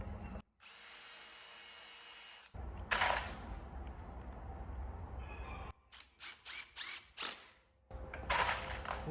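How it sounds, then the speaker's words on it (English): A power drill with a drill bit bores pilot holes into wood while a rot-proof raised garden bed is built, running in several long bursts and then a series of short rapid pulses, close and loud. "I like to use a drill bit and a countersink separately."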